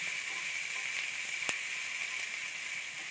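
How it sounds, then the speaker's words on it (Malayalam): Long-sliced onions frying in hot coconut oil, a steady faint sizzle throughout with one sharp clink partway through and a few light stirring ticks. "സവാളയും കൂടി നീളത്തിൽ അരിഞ്ഞെടുത്തതാണ്. ഇട്ട് കൊടുക്കാം."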